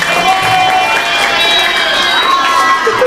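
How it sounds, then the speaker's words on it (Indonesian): A crowd of students at a school orientation event claps and cheers together, a dense loud burst of applause with shouting voices that fills the whole moment. "Tepuk tangan buat temannya."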